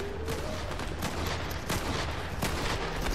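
Gunfire in the monster-hunting shooter Evolve runs as a steady stream of rapid shots, with a sharper crack now and then over a thick, noisy battle background.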